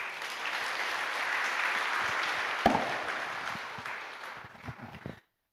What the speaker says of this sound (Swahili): haya makofi hayajatosha kwa mtumishi wa Mungu